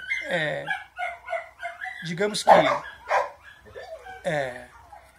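A dog barks and yips in short, sharp bursts, mixed in with someone talking continuously over it.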